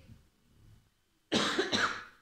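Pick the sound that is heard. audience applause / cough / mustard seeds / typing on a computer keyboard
cough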